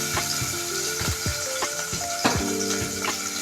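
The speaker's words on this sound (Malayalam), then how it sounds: "നമ്മുടെ എണ്ണ ചൂടായിട്ടുണ്ട്, നമുക്കിതൊന്ന് ലോ ഫ്ലെയിമിൽ ഇട്ട് കൊടുത്തിട്ട് കുറച്ച് ജിഞ്ചർ ഗാർലിക് പേസ്റ്റ് ഇട്ട് കൊടുക്കാം." Ginger garlic paste sizzles in hot coconut oil over a low flame, a steady close frying hiss broken by sharp clinks and scrapes of stirring.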